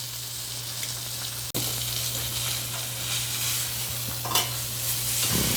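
A steak sizzles steadily in a hot pan, a constant close frying hiss with a brief sharp knock partway through and faint spatters.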